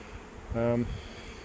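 Honey bees: a single buzz swells up close and fades away within about half a second, a droning hum over quiet outdoor background in Newfoundland.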